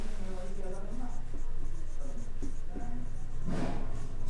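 Scratchy strokes of writing on a board during a Hindi-language chemistry lesson on carbon compounds, a short rough burst standing out near the end while someone speaks over most of it.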